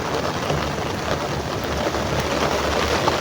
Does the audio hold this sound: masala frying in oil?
no